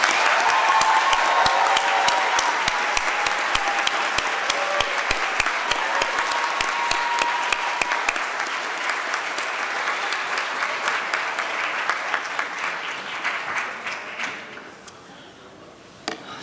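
A large audience claps steadily for Presidential Scholars at a high school awards ceremony, a long, even roar of applause that thins out and fades near the end.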